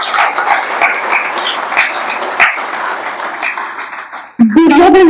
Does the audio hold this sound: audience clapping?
yes